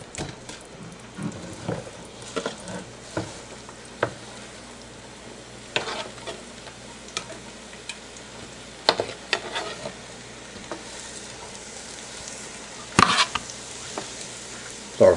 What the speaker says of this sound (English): we got a half a stick of butter in here. Go ahead and start cooking this stuff off.